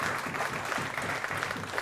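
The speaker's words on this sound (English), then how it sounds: "give them a big round of applause" An audience at a lecture gives a team a round of applause, a steady wash of clapping throughout, moderately loud and even.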